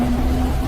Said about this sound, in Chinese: 这是一段汽车引擎的音效